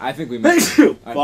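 A single sharp sneeze bursts out from a man playing the video game Alice: Madness Returns, erupting in the middle of his casual talk, close and loud.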